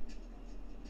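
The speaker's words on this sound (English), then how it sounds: "And that cuts it." A razor blade slicing through printable vinyl, a soft, close scratching scrape that runs steadily and ends with a brief thump.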